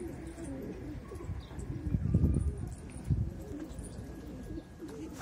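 Young pigeons coo softly nearby in a loft, with a couple of low throaty bursts rising over quiet background noise.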